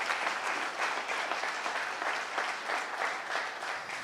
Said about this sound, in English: let's go ahead and give these exhibitors a big round of applause